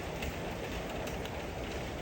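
Steady rain falls around a house that is being painted by hand, a continuous broadband hiss of drops pattering on surfaces, even and moderately loud throughout with no voices.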